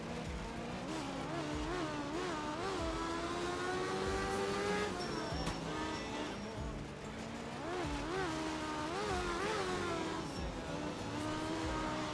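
A rally car engine in art of rally revs hard and continuously for the whole stretch, with repeated rising pitch sweeps as it shifts through gears and brief tire-scrub noises, loud and close throughout.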